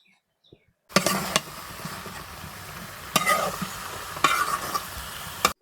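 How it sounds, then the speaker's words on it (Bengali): Jackfruit sizzling with spices in a pan as it is stir-fried, with a steady fry hiss and several sharp scraping strokes of a spatula, close and fairly loud after a quiet start. "এবার কাঁঠালটাও একটু ভালো করে আউজি নেবো।"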